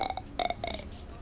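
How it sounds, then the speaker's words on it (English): A burp from a player in a Fortnite Disco Domination session, a short cluster of throaty belches with a brief pause, close and fairly loud, no talking. "Just do one burp."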